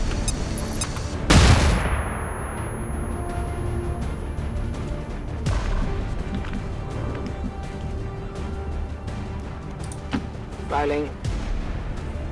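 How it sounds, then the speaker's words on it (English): A flashbang grenade in XCOM 2 goes off as a single loud, sharp blast with a fading ringing tail, followed by battle sounds and someone talking. "I don't actually know if flashbangs are going to cancel his ability to melee us"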